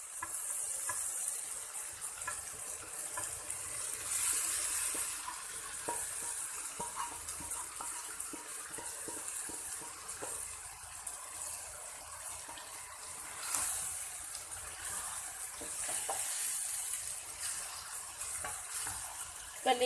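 Liver added to a masala in a pan sizzles steadily for the whole stretch, with scraping stirs and faint clinks of a spoon against the pan, close and moderately loud with no talking.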